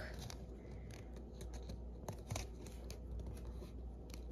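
Paper money is being folded by hand, soft crisp crinkles and light creasing rustles close by, faint over a low steady background hum with no talk.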